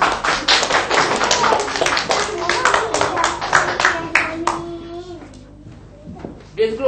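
Rapid uneven clapping from a group of young schoolchildren in a classroom, loud and close, fading after a few seconds as children's voices carry on over it.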